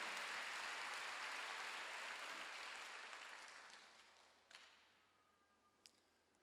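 A congregation claps during a Sunday church service, a dense burst of applause that gradually thins and fades away, leaving a few scattered last claps near the end.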